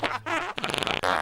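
A short burst of fart sounds, loud and close, with a buzzy sputtering middle section and a brief second blast at the end, no talking.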